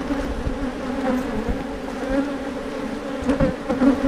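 Stinging wasps buzzing around a nest being destroyed, a dense close swarm of droning buzzes with individual insects passing near, steady throughout with no talk.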